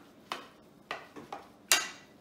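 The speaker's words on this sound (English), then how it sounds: "So you stir everything together." Potato kugel mixture stirred with a big spoon, giving about five quiet, separate scrapes and clinks at uneven intervals, with no one talking.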